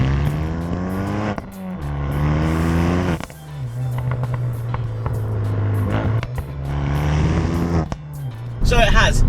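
A K-Tuned Renault Megane R.S. 250 Cup with 320 brake horsepower, induction kit and 3-inch decatted exhaust revs repeatedly, rising and falling in sharp bursts with a crackling pop near the end, close and loud.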